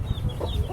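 Chickens on a poultry farm cluck in a short, close burst of low, throaty notes, with faint higher chirps over the top.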